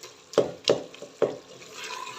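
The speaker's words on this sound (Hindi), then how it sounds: "और अब हम इसकी अच्छे से भुनाई करेंगे" Minced meat keema with crushed green chilies being stir-fried in a pan: three sharp spatula scrapes and knocks spaced under a second apart over a soft sizzle, close and fairly loud, with no talk.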